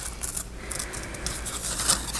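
Scissors fussy-cutting around shapes in paper give a string of small, quiet snips and light scraping strokes at close range, with no one talking.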